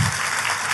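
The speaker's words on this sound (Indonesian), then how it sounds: "Tepuk tangannya yang paling meriah buat Yesus Tuhan kita." A church congregation claps all at once in a dense, steady burst of applause that fills the whole short moment.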